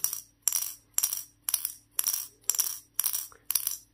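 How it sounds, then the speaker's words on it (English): A small steel ball bearing rattles inside a puzzle in eight sharp, evenly spaced bursts about half a second apart, bright and close, with quiet gaps between. "that is probably a steel ball bearing"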